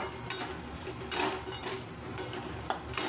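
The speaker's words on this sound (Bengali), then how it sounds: "এবার আবারও আমি এগুলো দিয়ে কষাবো" Pumpkin, bitter gourd and pabda fish sauté in a pan, with a steady background sizzle broken by repeated scraping and stirring clatters from a utensil, fairly close and moderately loud, no talk.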